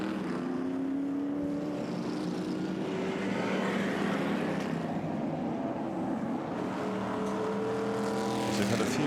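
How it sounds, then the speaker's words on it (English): Race cars entering a chicane at a circuit during the Graham Hill Trophy race, with engine notes rising and falling in pitch as they pass and shift, over steady track noise and no speech. "the cars are now just coming into the chicane"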